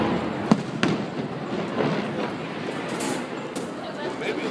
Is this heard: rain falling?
no